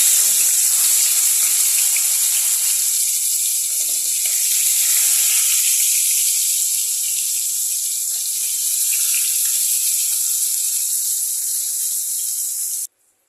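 Fish pieces fry in hot oil in a wok, giving a loud, steady hiss and sizzle that holds for about thirteen seconds and then cuts off abruptly.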